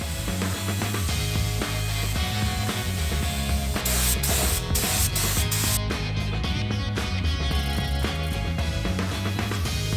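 A cheap spray gun sprays clear coat onto a car at home, giving a continuous loud hiss over a steady mechanical drone, with a few brief breaks in the spray near the middle.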